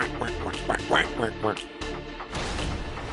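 Cartoonish duck quacks dropped in as a comic sound effect during an NBA playoff studio show, several short nasal bursts mixed with studio voices and background noise.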